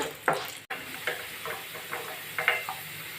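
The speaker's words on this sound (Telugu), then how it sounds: "ఆయిల్లోను కొంచెం క్యారెట్ ముక్కలు వేపేసుకుంటానండి" Carrot pieces frying in oil in a pan sizzle softly while being stirred, with irregular light scrapes and clicks of the utensil against the pan.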